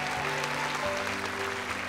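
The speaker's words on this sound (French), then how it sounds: "Mais c'est Mathéo que je vous demande d'applaudir." A studio audience on a French children's fan-school television show applauds young contestant Mathéo, dense sustained clapping filling the short moment with a faint tonal hum underneath.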